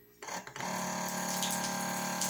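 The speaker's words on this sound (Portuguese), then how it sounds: "Aperta ela aqui em cima. Aí a água sai aqui, ó." A rechargeable electric water dispenser pump starting up with a click, then a steady stream of water pouring out close by, continuous and fairly loud.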